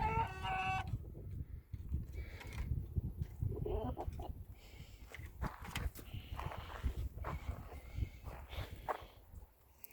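Rooster and other chickens on a farm, with pecking, scratching and footstep-like movement sounds close by and a brief crowing call near the start, over steady background noise.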